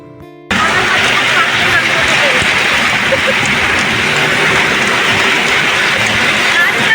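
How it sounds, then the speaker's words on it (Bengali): Heavy rain bursts in abruptly after a quiet start and then holds as a dense, loud, steady hiss of downpour close by. "কি সুন্দর বৃষ্টি"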